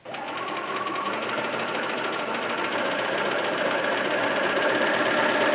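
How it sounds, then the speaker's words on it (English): Sewing machine stitching fabric with press-on interfacing around a table runner, a rapid, even mechanical whir that starts abruptly and runs continuously at close range without pause. "now I'm going to stitch all the way around"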